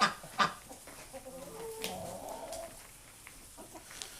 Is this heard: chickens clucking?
yes